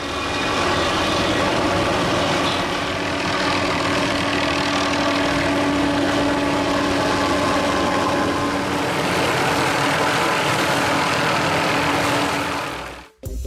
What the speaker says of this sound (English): it's necessary to control not only the helicopter, but also the cutting mechanism